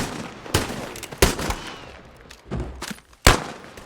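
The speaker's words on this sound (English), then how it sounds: "Gunfire breaks the silence." Several sharp gunshots ring out at irregular intervals, loud and echoing, with brief rumbling decay between them and no voices.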